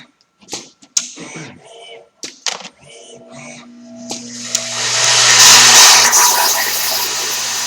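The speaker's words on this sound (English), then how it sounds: "The feeder bowl just fired because its sensor on the top of that rack up on the top right there just showed it was out of parts" Parts feeder bowl in a robot arm cell firing up after running out of parts, a steady loud vibrating buzz that swells in after some brief clicks and knocks from the machine.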